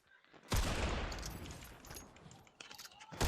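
Sniper and hand cannon fire rings out in a first-person shooter. A sharp shot cracks in, followed by a rattling volley that fades off, and another shot bursts at the end, close and loud.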